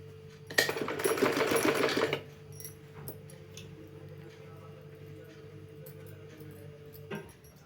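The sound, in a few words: sewing machine stitching old cloth shoes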